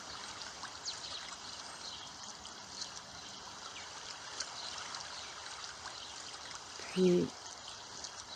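A soft, steady trickle of flowing water, faint and continuous throughout, with a calm voice speaking briefly over it near the end, set within a guided meditation.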